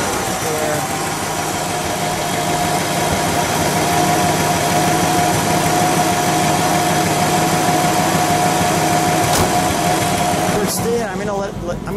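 A 1959 Pontiac Bonneville convertible with a Tri Power engine and dual exhaust idles steadily, a loud constant rumble that fills the whole stretch before a brief shift near the end.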